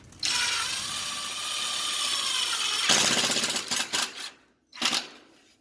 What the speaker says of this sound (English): just to over exaggerate, I'm going to use my impact.